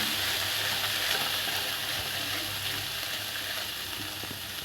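Ground cumin, turmeric and salt sautéing in a pan while cooking a rui fish curry with coriander leaves, giving a steady close sizzle and faint stirring scrapes, with no talking.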